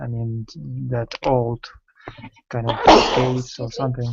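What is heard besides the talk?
sneeze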